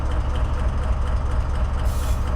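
Class 70 diesel locomotive on the South Wales Coast line in a train simulator game, a heavy continuous low engine rumble with broadband rolling noise held steady and loud across the whole moment.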